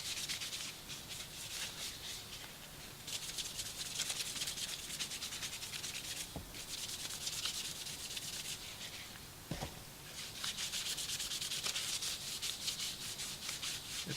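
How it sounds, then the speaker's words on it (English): Steady rubbing strokes of light-grit sandpaper across a Squier Stratocaster guitar pickguard, a continuous close scratchy hiss in repeated back-and-forth passes with a few brief pauses, heard alone without voices. "It's a very light grit"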